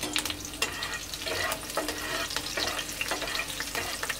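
Ingredients for veg chow mein frying in hot oil, giving a steady close sizzle with repeated stirring scrapes and clatter throughout, and no voices.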